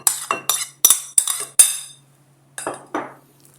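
Sautéed ingredients mixed into cream cheese in a bowl for beef wellington filling, giving a run of sharp utensil clinks and scrapes against the dish, close and loud, then a pause and two more taps.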